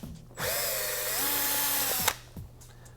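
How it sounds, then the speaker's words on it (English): A power drill with a 1/8 inch bit drills through a template while fitting frame sliders on a 2015-18 Yamaha YZF-R3, a close, steady whine lasting under two seconds. "I'm going to drill through with an 1/8 inch bit."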